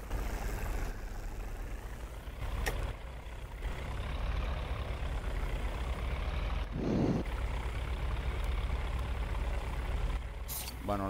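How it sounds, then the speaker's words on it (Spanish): Steady low engine drone from aircraft idling on a runway in the flight game IL-2 Sturmovik: 1946, a continuous mechanical hum with a brief louder rise near the middle and a chirp at the end. "ya estoy oyendo por ahí motores"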